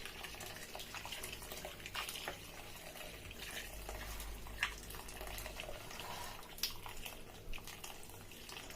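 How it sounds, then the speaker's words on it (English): Boiled water from a kettle pours into a pot of rice for jollof, a faint continuous liquid stream with small splashes and drips, quiet and close with no talking. "So I have boiled water from the kettle."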